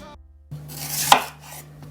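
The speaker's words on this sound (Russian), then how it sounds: "в первую очередь я режу лук средними кусочками" A single sharp knife chop through an onion on a board, preceded by quieter kitchen handling noise; close and clear, no voices.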